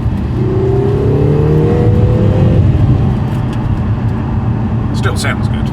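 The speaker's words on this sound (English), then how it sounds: "Still sounds good, like a Lotus always does." A Lotus car engine accelerates on a wet road, a steady loud drone with a rising tone early on, heard from inside the car, and a voice speaks briefly near the end.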